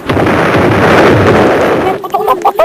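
A video game explosion rumbles as a dense, loud burst filling the first two seconds, then breaks into a few scattered pops as it fades.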